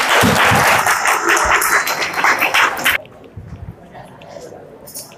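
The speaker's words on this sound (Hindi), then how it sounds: "जोरदार तालियां" Dense audience applause fills the first three seconds with loud, steady clapping, then cuts off abruptly, leaving quieter room sound and talk during a motivational session.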